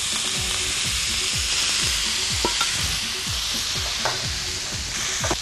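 Jhal jhura pitha tossed into a hot pan fries with a steady broad sizzle, while a utensil scrapes and stirs in a regular rhythm of repeated strokes, close and fairly loud.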